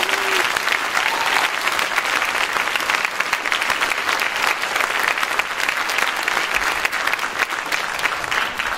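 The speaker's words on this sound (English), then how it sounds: "So I think they deserve a round of applause for this festival." Audience applauding a high school symphonic band at a spring concert, a dense, steady wash of clapping from a large crowd that holds at full strength throughout.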